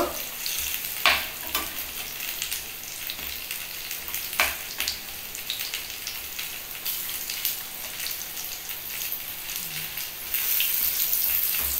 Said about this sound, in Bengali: এই তেলের মধ্যে একটু উল্টিয়ে পাল্টিয়ে দেখতে হবে পারফেক্ট মচমচে হচ্ছে কি না